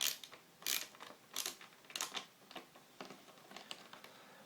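Screws being undone on a PlayStation 3 during a yellow-light-of-death repair: quiet, close clicking and ratcheting bursts in an uneven rhythm, with no talking.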